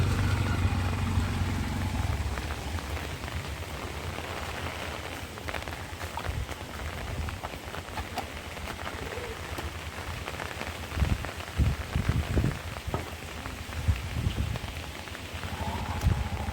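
Heavy rain pours down steadily during a storm with flooding, a dense hiss of drops hitting surfaces, with occasional louder splashes and patters near the end and no talk.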